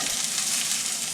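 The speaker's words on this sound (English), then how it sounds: "you need to get about a couple tablespoons of oil in your pan, get it hot." About two tablespoons of oil sizzling in a hot pan, a steady bright hiss with faint crackle, close and continuous.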